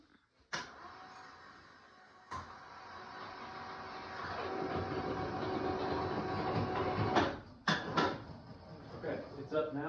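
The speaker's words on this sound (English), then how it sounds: "we've got a little contraption here to not only raise it up with the pulley system and the winch" A winch motor raises an overhead garage storage tray on pulleys: sharp clicks and clunks, then a rising mechanical whir that builds and holds, broken by more knocks near the end.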